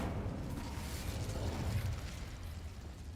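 A fire spell in the Hogwarts Legacy video game bursts in a loud, rumbling explosion with crackling pops, filling the whole few seconds as a dense, continuous roar.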